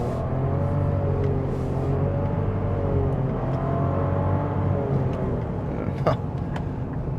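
A 2025 Nissan Rogue Rock Creek accelerates hard on the road. From inside the cabin, a droning engine and drivetrain whir rises and dips in pitch over a steady road rumble.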